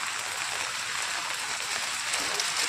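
Rain pattering steadily on an umbrella held overhead outdoors, a dense, even hiss of drops close by with no voices.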